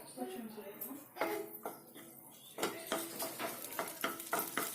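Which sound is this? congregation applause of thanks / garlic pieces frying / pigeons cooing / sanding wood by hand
garlic pieces frying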